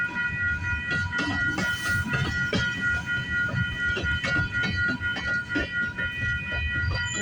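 A Canadian Pacific freight train headed for Montreal rolls past in a steady, loud rumble of rail cars with faint rhythmic clatter, no horn standing out.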